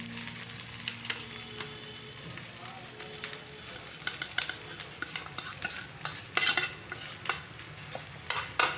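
Mutton masala frying in oil and being stirred in a pan, a steady close sizzle broken by repeated scraping strokes of the spoon and a few sharper clinks near the end.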